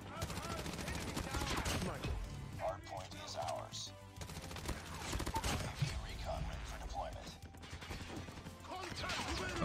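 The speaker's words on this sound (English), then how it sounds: "Missed all my shots with the hip fire." Hip-fire gunshots in the shooter game COD Mobile, a busy spread of rapid shots mixed with game effects, with a voice talking over much of it.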